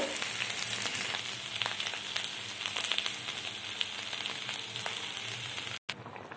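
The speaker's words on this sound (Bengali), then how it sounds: "এরপর আমি দেব পরিমাণ মতো গরম জল" Hot water poured into a pan of sizzling spice masala for a pointed gourd (potol) curry gives a continuous loud hiss and bubbling with faint utensil ticks, briefly cutting out near the end.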